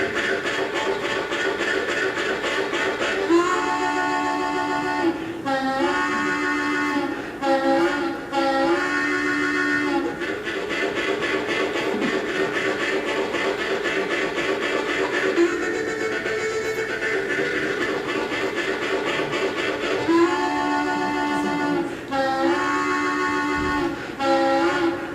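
A bluegrass instrument imitates a train, in the manner of a fiddle, with loud sustained chugging chords and whistle-like wails that swell and break off in repeated phrases for the whole stretch.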